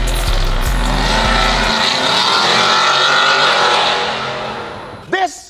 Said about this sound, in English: We're gonna do a last rip with the supercharger and nitrous.